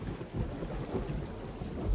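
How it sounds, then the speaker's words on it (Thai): A thunderstorm in the horror video game Home Sweet Home 2 rumbles with steady heavy rain and low rolling thunder, a continuous dense wash of sound with no voices. "พายุเข้าทันทีทันใด ไปไหนต่อเนี่ยต้องหาที่หลบฝนแล้วเนี่ย"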